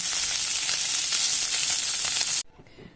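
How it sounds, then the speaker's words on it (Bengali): Small puti fish fry in hot oil with a loud, dense, continuous hiss that cuts off abruptly near the end, leaving only faint quiet clatter. "মাছগুলো ভালো মতন ভাজা হয়ে গেছে"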